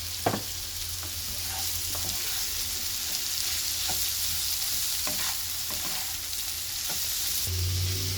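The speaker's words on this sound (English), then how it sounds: "I put in all my cabbage and I've nicely mixed all the masala" Shredded cabbage mixed with masala, frying and stirred in a pan: a constant bright sizzle with regular scraping spoon strokes, close and fairly loud, louder frying near the end, no speech.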